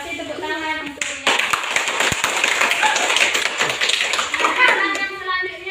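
Classroom applause from a group of twelfth-grade students, with steady clapping hands filling most of the clip after a brief quiet start, close and fairly loud, with a few voices mixed in.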